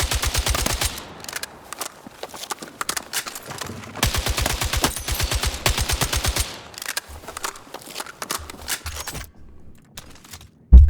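Automatic weapon fire on a Battlefield 6 firing range rattles out in several long, loud, rapid bursts separated by brief pauses, ending with a single sharp thump.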